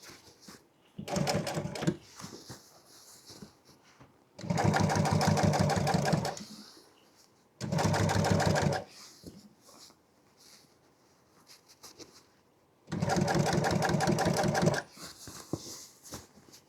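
An upholstery sewing machine top-stitches a truck seat in three or four bursts of steady, fast needle chatter, each lasting one to two seconds, close and loud, with short pauses and quiet handling between runs.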